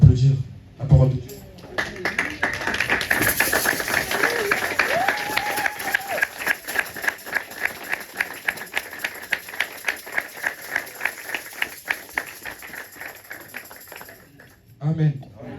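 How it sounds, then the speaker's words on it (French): A church congregation applauds after a sermon, starting with speech and a few loose claps, then settling into rhythmic clapping together on a steady beat that fades near the end, with voices at the start and finish. "Est-ce que nous pouvons se lever et applaudir la parole de Dieu?"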